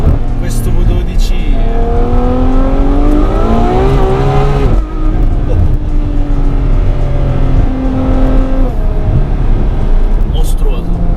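Ferrari F12 V12 engine revs hard in race mode, pitch climbing in repeated rising sweeps with a brief lift around the middle, loud and close from inside the cabin, with someone talking over it.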